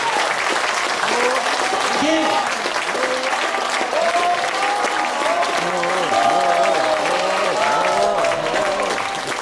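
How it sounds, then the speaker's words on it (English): Sustained applause from a crowd, steady and loud throughout, with voices calling and cheering over the clapping. "big round of applause"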